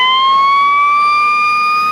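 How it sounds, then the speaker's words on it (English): A fire truck siren wails loudly and steadily, its pitch rising slowly, with no talking. "sirens blast as a fire truck speeds off to another call"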